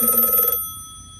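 A home telephone rings in a short burst of bright, trilling electronic tone that stops abruptly about halfway through, leaving a faint lingering hum.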